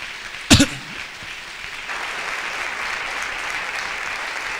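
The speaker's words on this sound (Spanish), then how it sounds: "dale un aplauso al Señor" Church congregation applauding, a steady wash of many hands clapping that swells and holds after a sharp cough-like burst near the start.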